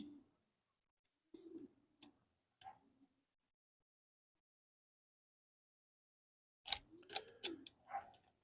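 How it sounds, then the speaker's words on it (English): Quiet background with a few soft low murmurs, then a short cluster of pigeon calls close by near the end, brief and uneven. "I hear birds. Pigeons."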